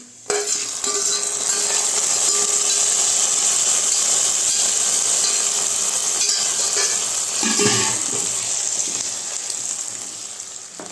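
Steady sizzling and stirring in a pan, with a spoon scraping roasted ingredients into thick carrot sago payasam, continuous and close, briefly louder near the end.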